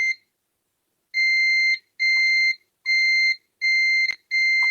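A multimeter gives continuity beeps while probing shorted pins on a laptop motherboard: five steady, high-pitched tones, each around half a second long, separated by short gaps, clear and close with no talk.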